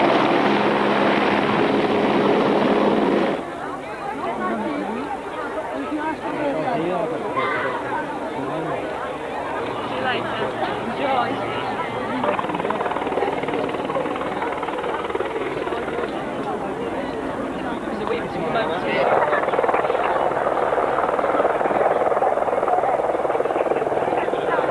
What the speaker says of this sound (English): So the police helicopter rendezvous with an ambulance, picks up a paramedic